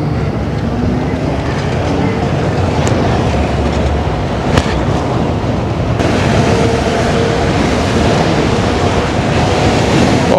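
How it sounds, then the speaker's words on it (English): Strong wind roaring steadily across the microphone while riding a Master Pro V1 electric unicycle at speed high up, a loud, continuous buffeting rush with brief gusts and no speech. "The wind you catch being up so high is crazy."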